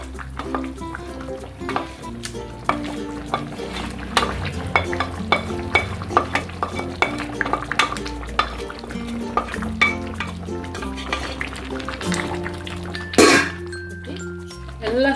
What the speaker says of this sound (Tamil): எல்லாம் சேர்ந்து ஒன்று சேர நல்லா கலக்கிடலாம்.